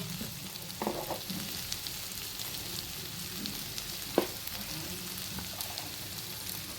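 Dried fish frying in oil for a tamarind curry, a steady close sizzle with a few sharp spatter pops and light stirring scrapes, no voices.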